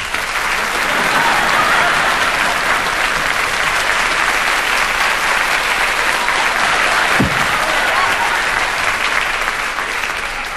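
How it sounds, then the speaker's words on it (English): A theatre audience applauds comedy performer Wilf Grimshaw of the Grumbleweeds: dense, steady clapping sustained at full strength for about ten seconds, with no voices over it. "how's about a fabulous clap, clap, clap for the lad himself, the one and only Wilf?"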